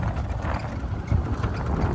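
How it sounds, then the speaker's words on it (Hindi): A big tractor's engine runs steadily at close range, a loud, continuous low rumble with an even throb and no voices over it. "मैं बड़ा ट्रैक्टर ले आया"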